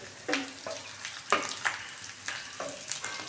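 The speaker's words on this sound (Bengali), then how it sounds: "দেখতেই পাচ্ছেন ডিমটা কতটা সুন্দরভাবে ভাজা হয়ে যাচ্ছে।" Fish roe frying in a pan sizzles softly, broken by several short bursts of stirring or turning, close and quiet, with no voices.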